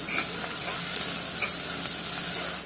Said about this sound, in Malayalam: ഇഞ്ചി ക്രഷ് ചെയ്തതും 1/2 ടീസ്പൂൺ വെളുത്തുള്ളി ക്രഷ് ചെയ്തതും ഇട്ട് നല്ലപോലെ ഒന്നുകൂടി വഴറ്റിയെടുക്കാം